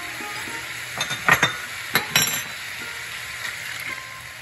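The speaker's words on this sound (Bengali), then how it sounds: "মশলাটা ভাজা হচ্ছে, আমি একটু জল দেব।" Dry spice masala frying in a pan for a Bengali cabbage ghonto, with a low sizzle broken by a few clinking, scraping stirs of a spoon against the metal pan, close by, no speech.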